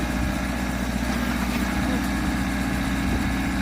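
A tractor engine runs steadily while it lifts a grapple at a high tunnel build site, a continuous low rumble with a constant loud drone throughout and no pauses.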